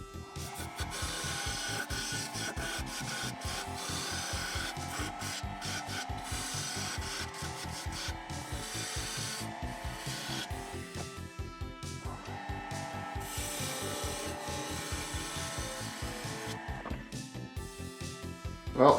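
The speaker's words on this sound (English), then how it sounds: "I think I'm going to have to sand the rest of that out of there." Sandpaper works the inside of a wooden bowl being turned into a goblet on a lathe, a continuous close rasping rub with a fast rhythmic pulse that carries on for the whole stretch.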